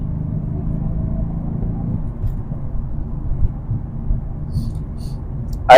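Mercedes-AMG C63s engine droning under way, a steady low rumble that holds throughout with slight swells, ending in a sudden sharp loud burst.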